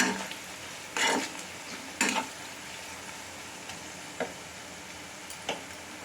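Chili powder is stirred into frying boal fish curry, a faint steady sizzle broken by several brief spoon scrapes against the pan spaced a second or so apart, close and without talk.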